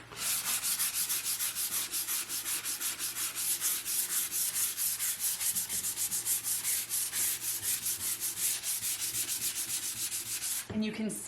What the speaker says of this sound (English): I'm going to sand the entire front of this